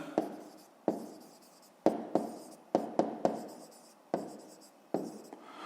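Pen writing on paper during a fifth-grade math exercise, a series of close, quiet scratchy strokes with sharp starts and fading tails, no talk.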